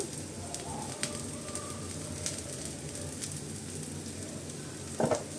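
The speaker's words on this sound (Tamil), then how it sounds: "கொஞ்சோண்டு சுற்றியில் எண்ணெய் விட்டுக்கலாம் மீடியம் ஃப்ளேமில் தான் வச்சுருக்கேன் பொறுமையாக வேகட்டும்" A cassava and coconut roti fries in oil on a medium flame, a steady, soft sizzle running throughout with a few faint clicks and a brief clatter near the end.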